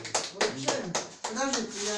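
A small group claps at an award ceremony for a Komsomol medal, scattered uneven claps mixed with voices talking over them.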